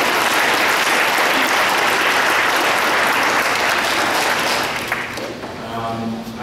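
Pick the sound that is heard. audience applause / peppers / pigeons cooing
audience applause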